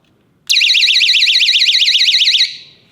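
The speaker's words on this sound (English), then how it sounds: "that is a 120 decibel personal alarm" A 120 decibel personal alarm built into a stun gun shrieks with a piercing warbling tone, switching on abruptly, holding for two seconds very loud and close, then cutting off and decaying.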